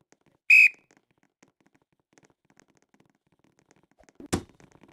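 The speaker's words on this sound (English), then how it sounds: "The whistle's been blown" A referee's whistle in an amateur league championship football game, one short sharp shrill blast near the start, then quiet with a dull thump near the end.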